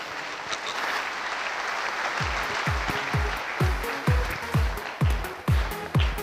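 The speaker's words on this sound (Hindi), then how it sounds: "हमारे सभी डायमंड लीडर्स के लिए और रेड क्लब के लिए जोर तालियां होनी चाहिए" Loud, dense applause from a large audience at a network marketing event fills the whole stretch, while a steady rhythmic thumping beat with deep booming hits joins in partway through and keeps pulsing under the clapping.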